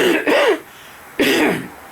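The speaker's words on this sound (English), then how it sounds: "I'm going to have a cough in a minute" A man gives two harsh, throaty coughs, close and loud, with a short pause between them, indoors in winter.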